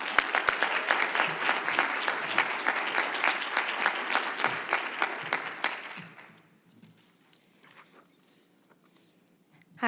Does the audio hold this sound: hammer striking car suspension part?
no